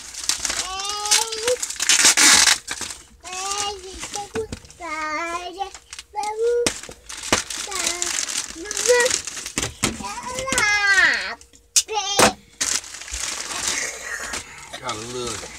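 Plastic packaging around new clothing, a crushed-velvet Celtics jogging suit, crinkles and crackles in short bursts close to the mic while someone talks over it.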